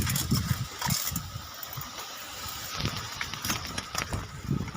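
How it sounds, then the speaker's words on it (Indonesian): Strong wind gusting through a neighbourhood in Banyuwangi, a broad continuous roar with rising and falling surges and rustling debris, loud and close throughout with no talk. "Anginnya kenceng banget serius, gila."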